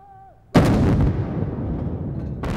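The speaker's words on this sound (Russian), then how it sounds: "Залп салютной батареи Петропавловской крепости дает сигнал к началу празднования Дня военно-морского флота России." A saluting battery fires a gun volley at the Peter and Paul Fortress in St Petersburg to mark Russia's Navy Day. One loud boom rolls out with a long echoing decay, and a second blast begins at the end.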